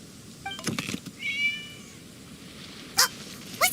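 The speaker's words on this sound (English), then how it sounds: "It was just a cat." A cat meows several times in the Genshin Impact video game, short mewing calls followed by a louder pair of cries, over quiet ambient background.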